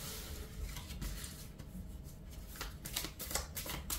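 Tarot cards being shuffled and drawn, a steady papery riffle with crisp flicking bursts growing busier toward the end, close and alone with no talk.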